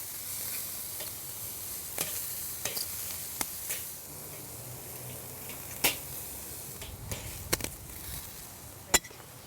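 Squid laid on a charcoal grill beside steak gives a faint, steady sizzling hiss outdoors, broken by scattered sharp clicks and taps from tongs and the grate.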